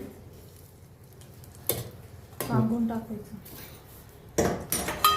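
Hot cumin tempering is tipped into a bowl of buttermilk with fritters, giving a sharp clink of a pan or ladle against the dish and a brief hiss, followed by more clatter of utensils, with a voice talking over it.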